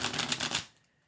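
Tarot cards being shuffled by hand, a close rapid riffling flutter lasting over half a second before cutting off into near silence.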